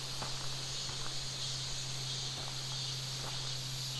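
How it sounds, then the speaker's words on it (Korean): Cicadas buzzing loudly among dense trees beside a mountain stream near an abandoned, half-built house deep in the mountains, a steady high-pitched drone over rushing water with a constant low hum and no voices. "물소리하고 매미 소리만 요란합니다"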